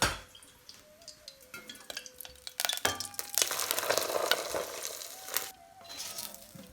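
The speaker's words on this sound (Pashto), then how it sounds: "اوس به د غوړي ور واچوم." Oil hissing and sizzling in a hot pan while dill rice cooks, a steady frying crackle that swells after a few seconds, with small clinks of utensils and no talking.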